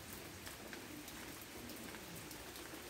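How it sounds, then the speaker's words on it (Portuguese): Light, fine rain falling steadily outdoors in late afternoon, a soft continuous hiss with faint scattered droplet patter and no voices. "Não é aquela chuvinha forte, é aquela chuvinha fina"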